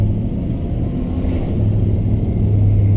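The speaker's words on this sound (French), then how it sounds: "Un joli bruit feutré, doux, double ligne d'échappement." 1966 Plymouth Fury III with dual exhaust, a soft, muffled, steady low engine rumble heard from inside the car, swelling slightly near the end.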